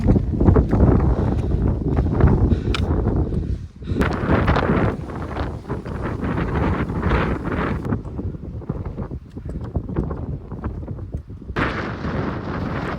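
Strong, gusting wind buffets the microphone high on a mountain ridge along the Tour du Mont Blanc trail, roaring loud and continuous with heavy low rumble and brief lulls, no talk.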